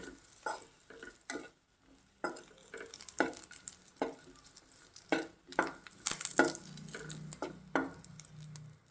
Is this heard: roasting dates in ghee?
yes